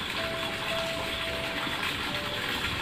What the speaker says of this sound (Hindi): यहाँ पे चल रहा है बोर अपना, पानी जा रहा है इन खेतों में और खेतों में पानी भर रहा है।